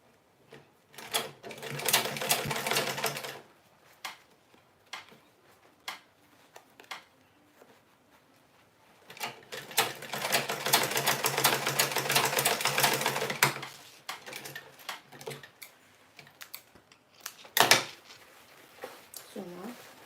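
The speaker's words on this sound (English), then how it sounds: "You can close it with a thread, or you can just sew through it, which I'm going to do now." Sewing machine stitching through fabric to close an opening, running in two long steady bursts with short pauses and a few clicks between, close and fairly loud, with brief talk in the quiet gaps.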